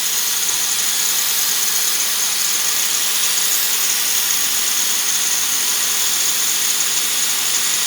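A mini lathe runs at 750 RPM while grinding high carbon steel, giving a steady, loud, even whine and hiss that holds unbroken throughout, with no talk over it.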